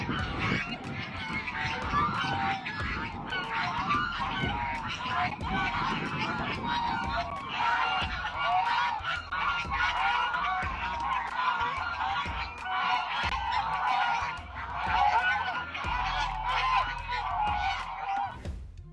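Geese honk and cackle continuously in a noisy flock, with a few ducks quacking among them, close and busy throughout.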